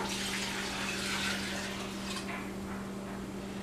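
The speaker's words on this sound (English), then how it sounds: "And then our 2 quarts of water." Two quarts of water are poured into a pot for chicken stock, giving a steady close rushing splash over a faint low electrical hum, with no talking.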